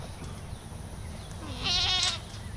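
Goats bleat on a farm, a loud, wavering call around the middle of the stretch over steady outdoor background noise.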